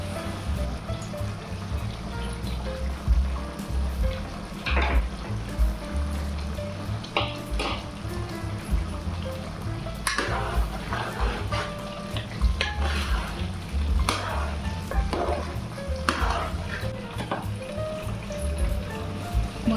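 Spices for mutton liver masala stirred in a hot pan: a continuous soft sizzle runs underneath, with repeated spoon scrapes and stirring strokes close by and no talking.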